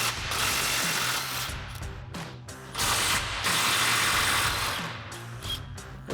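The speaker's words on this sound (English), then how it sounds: "Now we're going to fully remove this side with our 15mm socket on our impact." An impact wrench fitted with a 15mm socket rattles off suspension bolts on a Jeep Wrangler JL, loud close hammering bursts in two long runs with a brief pause between.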